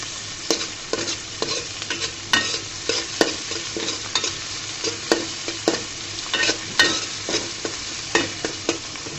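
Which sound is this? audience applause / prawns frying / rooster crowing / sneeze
prawns frying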